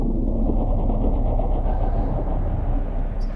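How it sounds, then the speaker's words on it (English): A train mechanism in the video game Uru Live gives a steady low rumbling, rolling drone with faint rhythmic clatter, loud and continuous for the whole stretch with no talk over it. "That might be the mechanism that's moving the train then."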